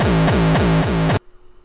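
An uptempo frenchcore kick drum made in FL Studio Mobile hits four times in quick succession, each loud, distorted and booming with a downward pitch sweep, then stops into near silence with a faint lingering tone.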